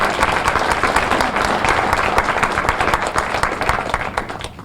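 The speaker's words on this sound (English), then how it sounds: "I just want to give everybody a round of applause for that" Audience at a student awards luncheon giving a sustained round of applause, dense even clapping from many hands filling the room, tapering slightly at the end.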